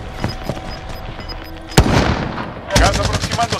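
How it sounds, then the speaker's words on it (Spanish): Video-game gunfire aimed at the player: scattered single shots, then a sharp loud crack and a burst of rapid automatic fire, close and punchy, with game voice lines around it. "¡Me están disparando!"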